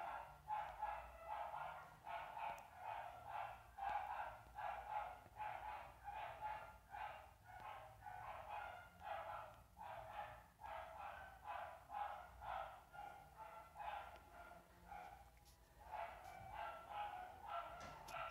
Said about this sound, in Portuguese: Essa cachorrada da vizinha aqui, olha. Só incomoda.